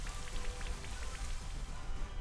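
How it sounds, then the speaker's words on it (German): Steady rainfall from the Rain Dance move in Pokémon Shield, a continuous even hiss of falling rain with scattered droplet patter, moderately loud and without speech. "Hydragil packt den Regentanz aus."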